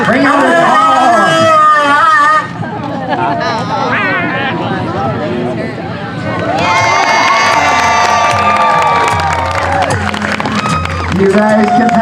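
A loud crowd at a state fair police dog demonstration cheers and shouts, with children's voices prominent, swelling in two bursts around a dip; people talk amid the noise.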